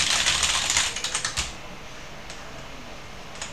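Rapid keystrokes on a computer keyboard, a quick burst of close, crisp clicks that thins out to a few scattered taps over a steady room hiss.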